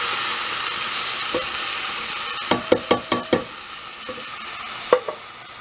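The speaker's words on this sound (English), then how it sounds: "Now, add in our tomato product" A spoon stirs tomato product into a simmering smoky barbecue sauce over a soft sizzle, with a quick run of five close clinks against the pot and a couple of later taps.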